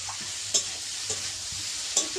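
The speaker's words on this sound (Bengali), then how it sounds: "দেখো খুব ভালোভাবে নেড়ে নিলাম" A spoon stirs salted, spiced food in a pan over a village stove, with a soft ongoing sizzle and three or four distinct scraping clinks at uneven intervals, close by and with no voices.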